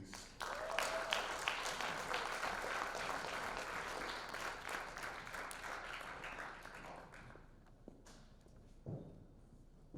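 An audience at a film festival screening and Q&A in Philadelphia applauds as a rap performer takes the stage. The clapping is fairly faint and even, then thins out and fades toward the end, with a few scattered claps remaining.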